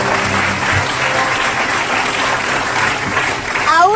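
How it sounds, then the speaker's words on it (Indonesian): Studio audience applause on a TV talk show, loud and continuous for about four seconds, dense with many hands clapping at once. "Tepuk tangan."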